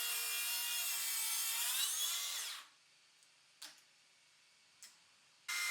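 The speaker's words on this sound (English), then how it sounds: "I'm not going to have enough cutting depth with my track saw to do this in one go" Track saw cutting through an oak countertop offcut, a loud whining cut with rough rasping that stops abruptly, followed by quiet, two brief clicks and another burst of noise at the end.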